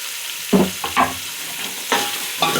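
A spoon stirs tomatoes and turmeric in a frying pan over steady sizzling, with several distinct scraping strokes against the pan, close and clear, with no talk.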